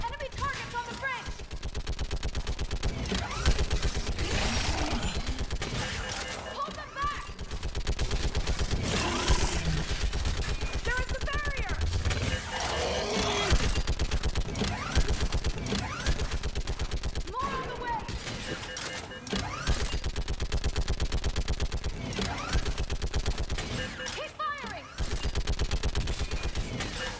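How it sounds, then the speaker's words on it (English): A mounted gun on a bridge in Mass Effect 3 firing during a battle on Thessia: sustained loud bursts of automatic fire, one after another, with shouted combat voices mixed through the din. "Get on that gun up there and do some damage!"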